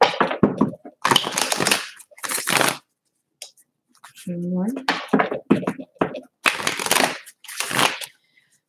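Tarot cards are shuffled by hand in bursts of riffling and tapping, close and crisp, with a short spoken count in between.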